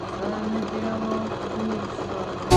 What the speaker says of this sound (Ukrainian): робимо щось типу обметки. Щоб наша спідниця не торочилась, не пускала нитки